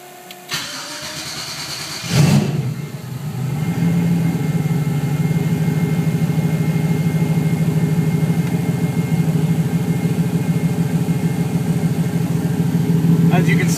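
A Ford Fairmont fitted with a gutted gen 3 engine and gen 4 parts, running on a MicroSquirt test setup, cranks and catches, then settles into a loud, steady idle that continues to the end.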